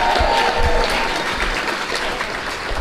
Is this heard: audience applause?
yes